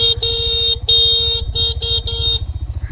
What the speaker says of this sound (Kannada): ಆ ಥರ ಹಾರನ್ ಕೇಳ್ರಿ